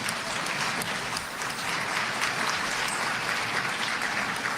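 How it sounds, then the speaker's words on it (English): Applause from the audience at an Oklahoma governor debate, a dense continuous roar of many hands clapping at a steady level throughout, heard without speech. "Give them a round of applause."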